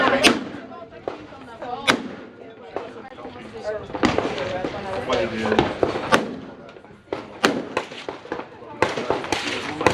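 Sharp gunshots crack at an outdoor shooting range during a firearms range day, irregular single and clustered reports, some loud and close, others lighter, with people talking between shots.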